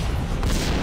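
Grenade blast in the Max Payne shooter game, a short dense boom with rumbling low-end and a burst of noise, loud and close, lasting under a second.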